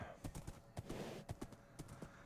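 Horse hooves clip-clop in a Minecraft modpack game, a quick run of light rhythmic thuds at close range, repeating about twice a second, with faint game background under them.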